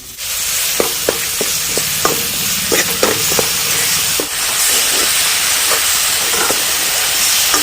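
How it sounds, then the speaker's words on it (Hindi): Masala roasting in a pan for a soybean nugget and potato curry, with a steady loud sizzle and hiss and sharp scraping clicks of a spoon stirring through it. "मसाला भी हमारा कितना प्यारा, कितने फटाफट जल्दी से भून गया है"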